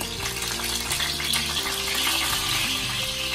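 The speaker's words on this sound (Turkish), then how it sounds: "Şimdi kabaklarımı kızartmaya alıyorum." Sliced zucchini sizzles in hot oil in a frying pan while cooking katıklı dolma from the Bitlis region, a steady crackling fry heard over soft background music.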